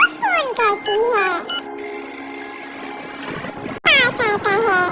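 A cartoon telephone rings in bright, repeated electronic trills, with a mother bird character making a call. A child-like voice speaks in between, and a short high tone sounds in the middle.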